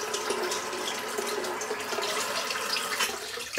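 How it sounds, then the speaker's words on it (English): Tap water runs steadily while shave gel is rinsed out of a razor at a sink, a continuous close splashing hiss with no voices. "It does rinse out of the razor very easily as well"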